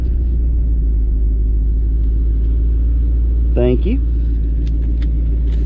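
A Whipple-supercharged 2015 Mustang GT, a modified 2017 GTR and a 2020 GT500 at a drag race: a steady, heavy low engine rumble throughout, with a brief voice speaking partway through.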